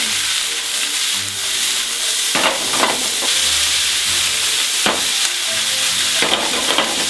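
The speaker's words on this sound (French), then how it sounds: "mirepoix dans la poêle. Légère coloration, on mélange." Mirepoix frying in a pan for lamb shanks, a loud continuous close sizzle with repeated bursts of stirring as the vegetables are turned over.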